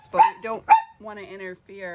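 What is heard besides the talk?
dog barking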